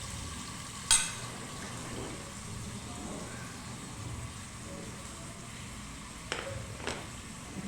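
Breakfast food fries in a pan, a steady crackling sizzle at close range with a few louder clatters of utensil against the pan.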